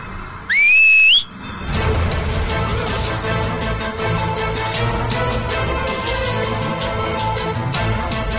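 A person whistles once as a signal, a loud, rising two-step whistle lasting under a second, then a noisy indoor background with rustle and movement continues.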